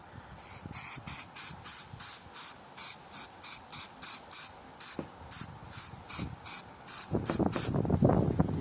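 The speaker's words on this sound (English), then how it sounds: "See, the spray is being taken by the wind." Spray paint can hissing onto a Warhammer 40k Genestealer Cult Goliath model outdoors in wind, about a dozen short bursts in steady rhythm, close and crisp, ending in a longer rougher spray.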